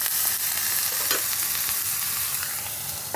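An egg wrapped in pumpkin leaf fries in a little oil in a wok, giving a steady close hiss of sizzling throughout with faint scraping.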